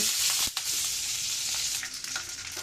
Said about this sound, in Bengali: এখন আমি কড়াইতে কিছুটা সরিষার তেল দিয়ে দিলাম,